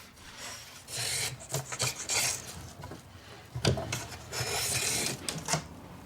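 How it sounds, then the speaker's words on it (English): Bamboo is shaved by hand for a Japanese bow, giving close, dry rasping strokes in an uneven rhythm with short pauses between passes. "He shaves carefully while checking the thickness together."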